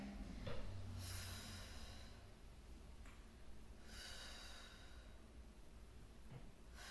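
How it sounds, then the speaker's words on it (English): Breathy exhales during a Pilates workout on a tower or Cadillac, a few soft, close puffs of air over faint room noise. "Big exhales."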